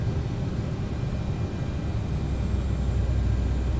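Airliner thrust reversers roaring on landing, an Aerosoft CRJ900 in Microsoft Flight Simulator: a steady, loud broadband engine rush with heavy low rumble, continuous throughout without a break.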